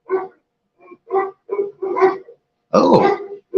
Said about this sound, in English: If you can hear my dogs barking in the background,